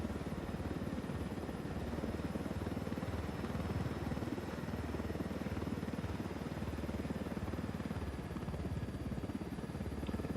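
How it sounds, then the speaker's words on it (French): A helicopter in the tactical shooter Ghost Recon Wildlands gives a steady, rumbling rotor and engine drone, constant and moderately loud throughout with no talking. "On va pour ça utiliser l'hélico, je pense."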